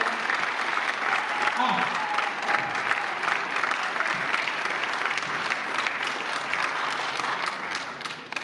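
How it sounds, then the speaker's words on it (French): A theatre audience at an eloquence contest final in Bordeaux applauds with steady, dense clapping that carries on for several seconds before easing off, and a few voices can be heard under it. "Est-ce qu'on peut applaudir encore?"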